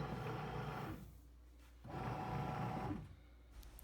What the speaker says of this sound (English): So our paddle has started mixing all of the ingredients together.